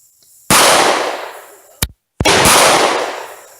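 Springfield Model 1903 rifle fired at a range, two loud sharp shots with a long reverberant decay, close by and separated by a brief metallic click.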